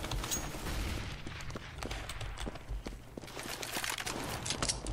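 Rapid bursts of gunfire in Counter-Strike: Global Offensive, scattered sharp shots and short volleys mixed with footstep-like crunches, fairly quiet overall with no speech.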